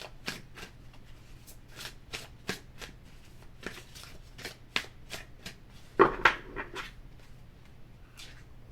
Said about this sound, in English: Let me shuffle this a little bit more.